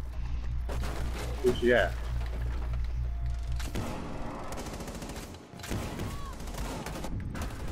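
Bursts of rapid gunfire in Rainbow Six Siege, close and loud at first, then thinner volleys and scattered shots mixed with game noise, while players briefly speak over it.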